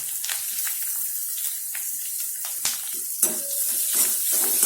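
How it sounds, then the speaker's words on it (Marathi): Chopped onion and tender curry leaves frying and being stirred in a pan for a corn kees breakfast dish, a steady close sizzle with a few clinks and scrapes, no voices. "आता हा कांदा पण आपण गोल्डन होतपर्यंत परतून घेऊया"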